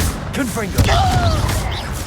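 Fiery explosive spell blast in Hogwarts Legacy, a booming burst with a sharp thump near the start followed by a sustained rumbling crackle, mixed with a character's raised voice and other game sounds.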